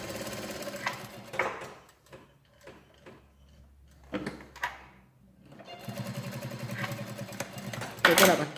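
Sewing machine stitching a welt pocket box piece at a 0.5 presser-foot spacing, running in several bursts of rapid mechanical whirring with short pauses between them, close and fairly loud.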